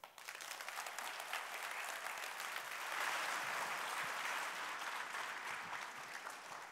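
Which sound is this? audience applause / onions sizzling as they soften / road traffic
audience applause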